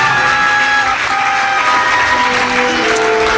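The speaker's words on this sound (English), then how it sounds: "please give her an applause" Sustained applause from a theatre audience at a live radio-theatre program, a dense, even clatter of many hands held at steady loudness throughout, close and full.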